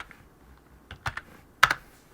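A few quick keystrokes tap on a computer keyboard while modelling furniture in SketchUp, sparse and fairly close, with one sharper key press standing out against a quiet room hum.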